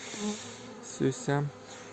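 Bees buzz steadily at a nucleus hive, a dense droning hum, with a couple of short voiced sounds rising briefly over it near the end.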